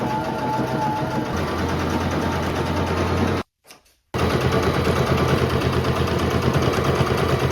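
A home sewing machine stitches loudly and steadily along marked lines on a thrifted garment being altered, pausing briefly partway through before the rapid whirring resumes.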